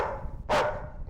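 A single sharp dog bark bursts out briefly and loudly over a dim room tone in a tense Hindi TV crime-drama scene, right after the dog has bitten a man.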